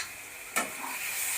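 Ginger garlic paste for prawn fried rice stirred and fried in a pan: a sharp scrape of the spoon, then a rising, steady sizzle that stays close and even, with no talking.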